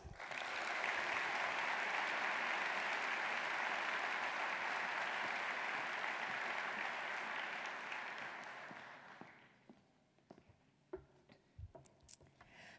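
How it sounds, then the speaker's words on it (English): A large audience at the San Diego State of the City address in 2018 applauds dignitaries and elected officials with loud, steady clapping that fades out after about nine seconds, leaving scattered faint room noises. "Please join us in giving all our dignitaries and elected officials a warm applause"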